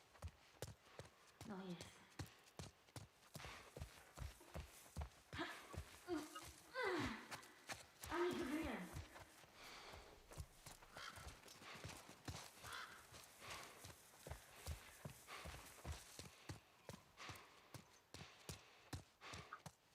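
Horse hooves clip-clopping at a steady walking rhythm in The Last of Us Part I, with a brief neigh and a snort midway, someone talking intermittently over the game sound.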